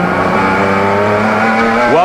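Onboard a Yokohama Tires BMW race car driven by Danny Marshall on the 1998 Minneapolis street circuit, engine droning loud and steady with harmonic whine, pitch rising sharply at the end as it revs.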